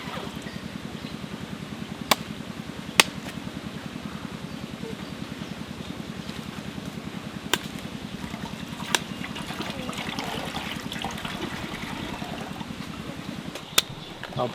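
Water pours steadily while coconut sherbet, a summer drink, is being made, a continuous close trickle and splash with occasional small clicks of the vessel, and no speech.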